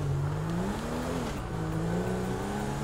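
Car engine in the video game GTA 5, a steady low engine drone with revs rising and dipping in pitch, moderately loud and continuous with no talk.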